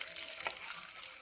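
Spices tempered in hot oil for a dried red chilli tamarind pickle give a faint, steady hiss of sizzling with one brief brighter crackle and no talking.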